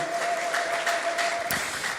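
A church congregation claps steadily for a short stretch, a dense even patter of many hands, with a sustained musical tone underneath.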